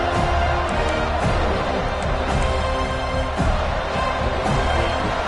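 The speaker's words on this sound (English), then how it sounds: "listen to this crowd noise. This stadium is vibrating." Dense, steady roar of a packed college football stadium crowd in College Football 26, Clemson against Florida State, loud and continuous with swelling bursts of cheering and no talk over it.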